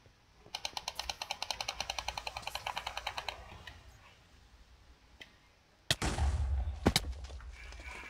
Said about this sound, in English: I knew that was exploding.